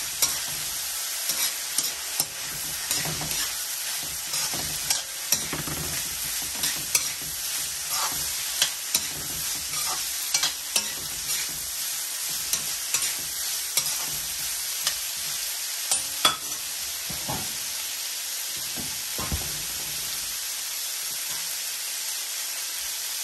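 Broccoli, carrot and mushroom stir-frying in a pan, a continuous bright sizzle with steady hiss and frequent clicks and scrapes from stirring throughout, no voices.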